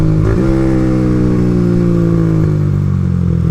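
A Bajaj Pulsar 200NS motorcycle engine revs loudly and close, its steady mid-pitched drone rising slightly before settling, with a brief blip near the start and another dip later, no voices present.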